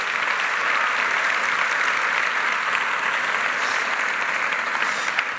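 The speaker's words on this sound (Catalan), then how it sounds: "un fort aplaudiment per tots ells" An audience applauds in the Teatre Principal de Terrassa at a play presentation. The clapping is steady, dense and sustained, a smooth wash of many hands with no talk over it.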